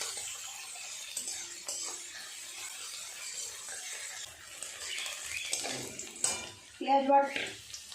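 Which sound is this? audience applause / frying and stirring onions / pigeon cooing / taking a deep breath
frying and stirring onions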